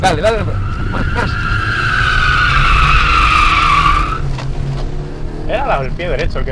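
Tires on a drifting car squeal loudly and steadily across a track at a driving school, the skid rising in pitch before breaking off, with engine rumble and short bursts of chirping rubber afterward.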